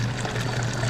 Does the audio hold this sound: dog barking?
no